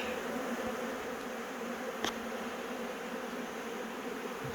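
A honey bee swarm being gathered into a bee house, a dense, steady buzzing hum that fills the whole stretch at close range.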